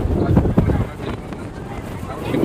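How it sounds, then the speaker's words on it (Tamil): Strong sea wind buffets hard on the glass bridge linking the Thiruvalluvar statue at Kanyakumari, gusting loudly at first then easing, while people talk over it. "காத்து அடிச்சு தள்ளுது."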